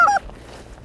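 A single short, nasal goose honk opens an early season goose hunt in Michigan, then fades into low outdoor background noise.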